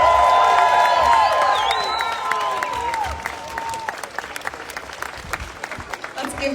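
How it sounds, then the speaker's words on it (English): Crowd applause and cheering at an outdoor university protest against mandatory masks and boosters, loud at first, with whistles and shouts over the clapping, then thinning into scattered claps. "Let's give another round of applause for a Western alum, Andrew Lawton."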